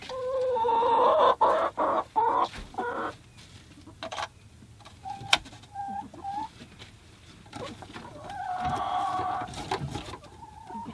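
Backyard chickens cluck and squawk nearby in a coop in irregular bursts, with scattered clicks and knocks in between and a louder flurry of clucking near the end.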